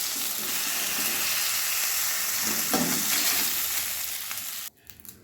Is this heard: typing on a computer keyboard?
no